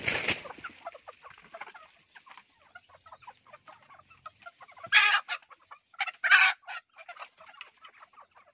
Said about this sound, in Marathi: आपण पाहत असेल हा एक कोंबडा आहे